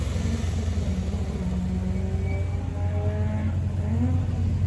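A Peugeot 205 F2000 rally car sets off on its final hill climb run, its engine rumbling at a distance and rising in pitch through a few gear changes, with no talk.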